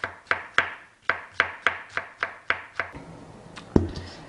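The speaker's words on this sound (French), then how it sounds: "on va les couper tout fin au couteau" A knife chops leftover cabbage pieces finely on a board for sauerkraut: about ten crisp, evenly spaced strikes, then a few sparser ones and one louder final chop, close and with no talk.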